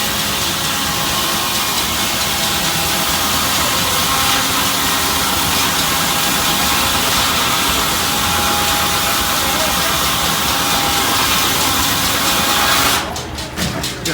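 An antique sawmill at an engine show runs loud and continuous, a steady mechanical roar and drone that hold throughout, then break into rapid clattering pulses near the end.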